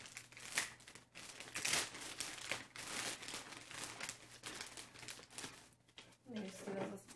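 Plastic shipping package being wrestled and torn open by hand, with crinkling and ripping bursts up close, under a steady hum and occasional talk.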